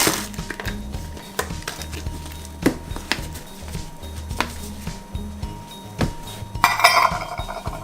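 Metal utensil scraping and clinking against a bowl in uneven strokes, stirring seasoning for pepes tempe, with sharper taps and a brief bright rattle near the end.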